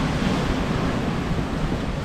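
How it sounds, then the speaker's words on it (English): Sea waves roll onto a Bristol Channel shore at night in calm weather with only a light breeze, a continuous dense wash of surf without distinct breaks and no voices. "The waves coming in quite quick, quite rapidly."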